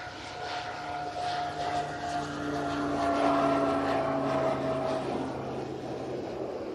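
Pilatus PC-12 turboprop droning steadily at an airport, a smooth propeller hum with tonal engine whine that swells slightly and then holds, moderately distant with no voices.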